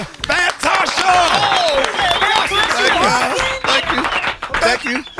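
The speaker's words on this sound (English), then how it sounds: "Y'all saw clapping." An audience in a morning radio show studio claps and cheers, a scattered, busy applause mixed with chuckles and overlapping excited talk throughout.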